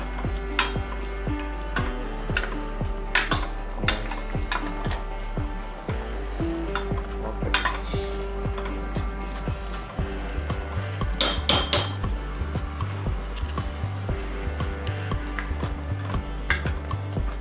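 Mutton pieces frying in oil with salt and turmeric, stirred in a pan: continuous clattering and scraping of a spoon against the vessel with a background sizzle, busy and close, no speech.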